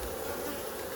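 Honeybees buzzing around a beekeeper working a stuck honey frame, a steady close and loud drone with no talking.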